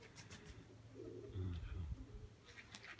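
Pigeon cooing, a soft low throaty rolling coo that swells in the middle and then fades, with faint higher bird chirps around it in a dovecote setting.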